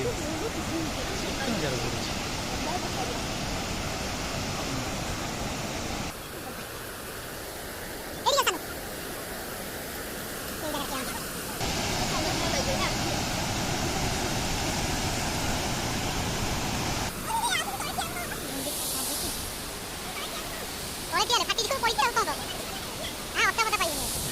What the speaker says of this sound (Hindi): जल प्रपात